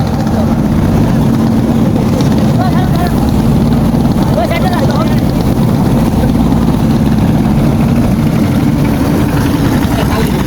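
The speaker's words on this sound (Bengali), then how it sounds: "উত্তাল পদ্মা দীর্ঘক্ষণ ট্রলার চালিয়ে ইপার এসে পৌঁছাইছি" A trawler's engine drones loud and continuous on the rough Padma river, a heavy low idling rumble that never lets up, with wind and water noise over it.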